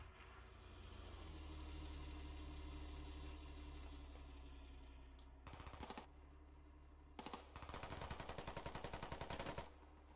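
Gunfire in the military shooter game Squad: rapid automatic bursts crack out in two volleys over a steady engine-like rumble, the second burst longer and sustained.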